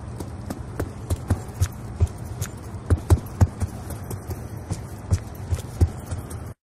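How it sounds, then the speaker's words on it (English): Enemy footsteps in Black Ops 2 heard with the Awareness perk, a steady run of clear, evenly spaced thuds and clicks over a busy background of game noise. "In this case, the footsteps can be heard quite clearly even if there's some background noise going on."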